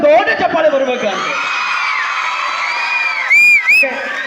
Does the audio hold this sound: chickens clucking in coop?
no